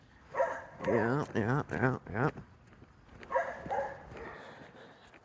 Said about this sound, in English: That dog's barking. Yep, dogs are barking.